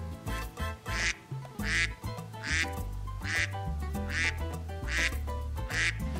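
Ducks in a garden give loud, repeated quacks in a steady rhythm, one call roughly every second, heard close with no talking.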